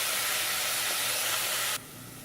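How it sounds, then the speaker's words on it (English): Onion dropped into hot olive oil in a pot for tomato basil soup sizzles with a loud, steady broadband hiss that drops sharply in level near the end but keeps frying. "The oil is hot and now I'll add the onion."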